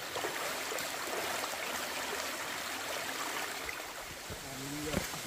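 Steady rushing water from a jungle waterfall in Thailand fills the air as a broad, constant hiss, fairly distant and even, with a faint brief tone near the end.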